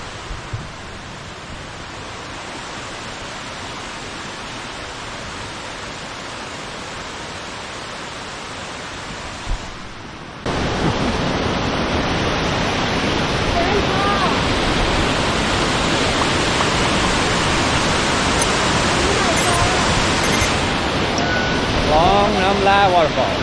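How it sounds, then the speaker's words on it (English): Khlong Lan waterfall roars as a dense, steady rush of falling water on a rainy day. It gets much louder partway through as the spot moves closer, and faint voices sit under it. "Khlong Waterfall."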